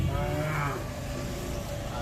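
Calves low at a village cattle-loading spot in rural Dinajpur, Bangladesh, with a drawn-out, fairly close moo rising over a busy outdoor background and faint voices.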